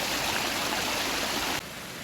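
A stream in the Lake District near Ambleside rushes steadily with a loud, broadband wash of flowing water, close by and continuous, dropping slightly in level near the end.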